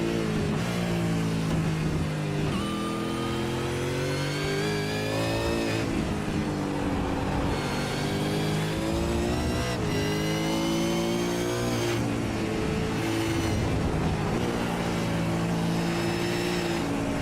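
A V8 Supercar engine in a sim racing game at the Winton circuit, held on steady throttle with sustained revving that rises and falls through gear changes, loud and continuous with no talk over it.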